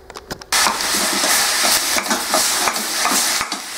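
Sausage and onions fry in a pan, a steady broadband sizzle that begins abruptly and carries on loud and close, with faint stirring ticks and scrapes scattered through it.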